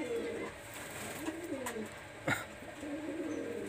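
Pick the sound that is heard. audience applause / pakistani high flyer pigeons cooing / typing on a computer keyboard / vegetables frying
pakistani high flyer pigeons cooing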